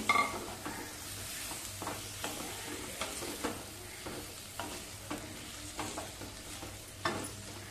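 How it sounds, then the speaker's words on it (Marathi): Potato pieces stirred into a spice masala for aloo methi: a soft background sizzle of frying, broken by regular scraping strokes of a spoon against the pan roughly every half second, close and fairly quiet. "आता बटाट्याच्या फोडी घालूया. चांगल्या मिसळून घेऊया मसाल्यामध्ये."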